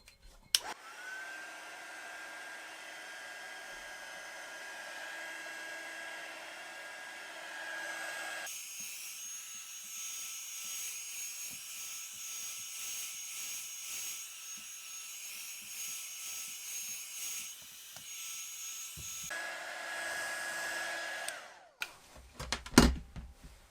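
A heat blower warms edge paint on a rolled leather handle, producing a steady airy whooshing hum that shifts in pitch partway through, then cuts off before a few handling clunks at the end.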